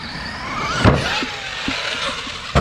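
An Arrma Granite RC monster truck running hard on a 4S battery during a bash session, giving a steady buzzing drive whine with a few sharp thumps and scrapes from landings, close and loud throughout.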